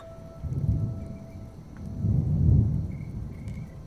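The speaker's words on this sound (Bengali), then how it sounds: "এমন সময় মেঘের গর্জন শোনা গেল।" Thunder rumbles at night in two low, rolling swells that build and fade. Faint insect chirps carry on in the background.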